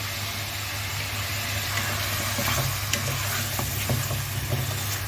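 Onions sauté in a pot while being stirred, a steady close sizzle with occasional scraping taps, over a constant low hum in the background.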